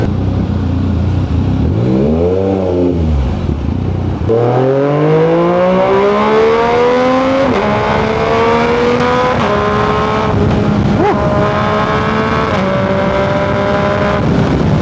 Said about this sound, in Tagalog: Ayun naman yung traffic